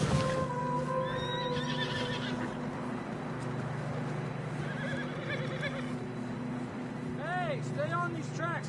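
Horses in a PS4 video game give a clear rising and falling whinny near the end, over steady game background sound and faint hoof clip-clops.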